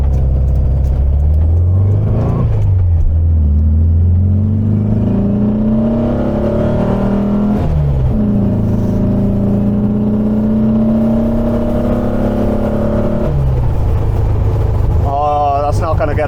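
A Volkswagen Beetle's engine drones steadily while the car drives along, rising and falling in pitch through gear changes. Someone talks over it throughout.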